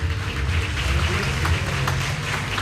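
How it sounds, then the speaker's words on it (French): An audience at the Salon de la Radio 2016 applauds a young radio talent candidate, dense steady clapping throughout the clip at moderate volume, with a low murmur beneath it. "Maxime Gibert, je vous demande de l'applaudir."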